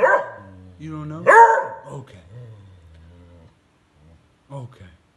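A dog barks loudly and close by in a few sharp, excited bursts, then a couple of fainter yips follow after a short quiet gap.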